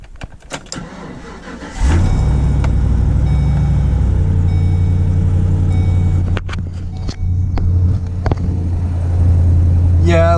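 A vehicle engine, the one that runs a diesel heater, cranks and catches at about two seconds, then settles into a steady, close idle that keeps running to the end, with a brief dip and clicks along the way.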